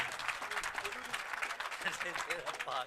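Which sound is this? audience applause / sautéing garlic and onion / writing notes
audience applause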